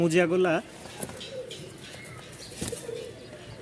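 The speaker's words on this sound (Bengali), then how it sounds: "সবেমাত্র আমরা কবুতরগুলো নিয়ে আসছি 6-7 কার্টুন" A loud, close coo from newly brought Rajshahi Giribaj and fancy pigeons opens the moment, then fades into quieter rustling, a wing flutter and soft scattered calls, with someone talking nearby.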